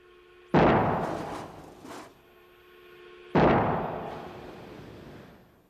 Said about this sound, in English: that's quite a scene to watch it when it finally lets go. I mean, it sounds like an explosion.